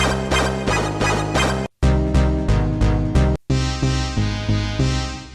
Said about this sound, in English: which are combinations of things like a synth and a bass together